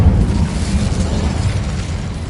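Incendio fire spell cast in Hogwarts Legacy, a loud, deep whooshing burst of flame with a heavy low rumble that fades slightly over about two seconds.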